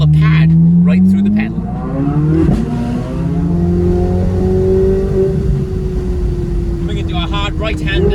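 A Corvette Z06 V8 engine pulls hard with the roof down, the deep exhaust note climbing through the revs and then holding steady, loud and close, as someone speaks over it.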